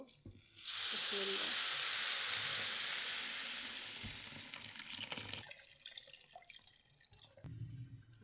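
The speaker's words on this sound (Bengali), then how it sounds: "আমি এখন গরম পানিটা দিয়ে দিব।" Hot water is poured into a pot of frying rice and carrot for pulao, a loud hissing sizzle and gush that bursts in close, then slowly fades into softer bubbling.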